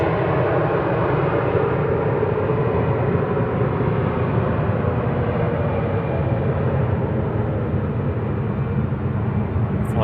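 An EasyJet Airbus A320-200 rolls on its departure run at Manchester Airport, a loud, steady jet roar close by that holds without a break throughout, with faint voices mixed underneath.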